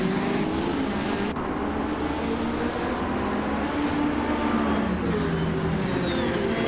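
A 2017 Porsche 911 RSR racing engine drones steadily at the Highlands Long Track in a racing game, a continuous loud roar with shifting engine tones and no talking.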